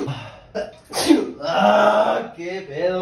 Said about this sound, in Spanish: Voy a estornudar como 5 veces, la neta.